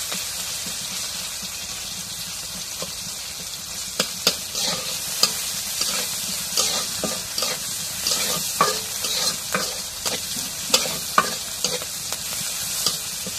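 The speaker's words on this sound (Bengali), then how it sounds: "এখন মরিচ পেঁয়াজ রসুন ভাজা হয়ে গেছে" Chopped chili, onion and garlic fry in a pan with a steady sizzle close by. A spatula stirs and scrapes against the pan in irregular clicks, and no voices are heard.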